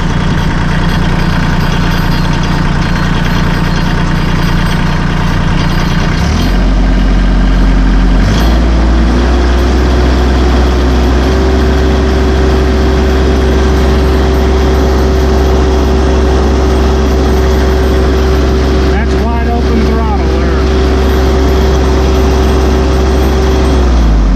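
A Massey Ferguson 1M.25 compact tractor's diesel engine idles steadily with a loud, low rumble and a constant hum, its pitch shifting slightly a few times.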